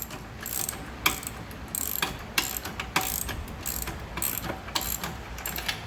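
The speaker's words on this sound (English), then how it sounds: "this is when my 7/16 socket is going to become handy. So I would just tighten it up" Ratchet wrench fitted with a 7/16 socket tightening a bolt while assembling a soft wash unit, giving repeated close clicking pawl strokes in quick bursts with short pauses.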